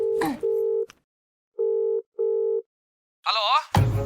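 A telephone ringback tone plays while a call is placed, a few steady mid-pitched tone pulses separated by short pauses. A voice and a noisy burst follow at the end.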